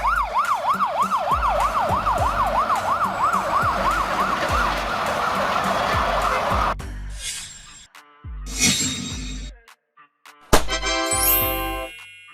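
Czech police car, such as a Skoda Superb or Ford Focus, sounding a loud wailing siren that sweeps up and down steadily, followed by a few abrupt bursts of a different siren tone with short gaps between them.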